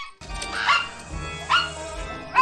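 A dog in the 1989 comedy film The 'Burbs gives three short, high yipping barks a moment apart, close and fairly loud over low background noise.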